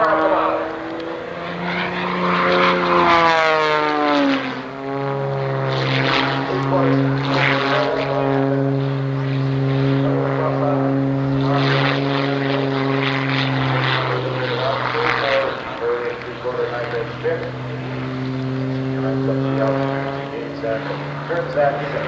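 A propeller aerobatic plane flies a square loop with step rolls at an Oshkosh airshow, its engine buzz rising and falling in pitch as it climbs and dives, heard at middle distance beneath an announcer's talk.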